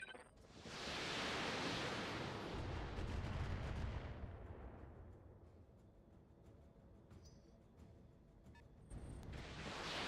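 Missile fire striking a mech in Roguetech, a faint, sustained roar of rushing blasts and rumbling impacts that swells early, then settles into a lower churning wash with a few sharp cracks.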